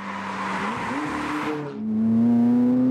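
A powerful McLaren Longtail sports car's V8 biturbo engine roars up close, revving high, then drops and settles into a deep, loud rumbling drone.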